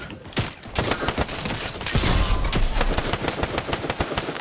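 Submachine gun fire in a video game rattles in rapid bursts, with dense crackling shots and a heavy thud in the middle of the sequence.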